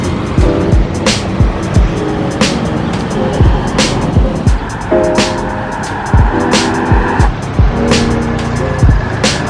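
Songthaew public transport truck driving toward the Bangrak ferry terminal on Koh Samui, Thailand, with a steady road and engine rumble, repeated passing-vehicle whooshes and a few squealing tonal sweeps.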